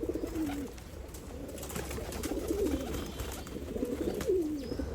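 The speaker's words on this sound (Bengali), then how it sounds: "আমার এই নয়টা সিরাজি কবুতর মাদিটাকে ডিম পাড়ানোর জন্য ব্যস্ত" Sirazi pigeons cooing nearby, a few soft throaty rolling coos repeating over a low background hum.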